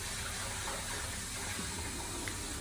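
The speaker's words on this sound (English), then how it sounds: "then removing the water from the rice to wash it" Water pours steadily as it is drained off rice being washed in a kitchen, a continuous loud rushing splash that fills the whole stretch without pause, with no voices.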